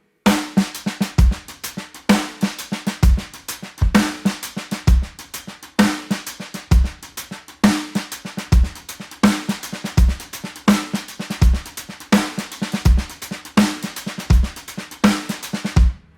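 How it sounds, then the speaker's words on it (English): A drum kit plays a halftime shuffle groove built on a ghost note pattern, steady loud kick and snare hits over busy soft ghost strokes and cymbals, repeating evenly and up close with no talk. "it was a ghost note pattern I hadn't encountered with halftime shuffle"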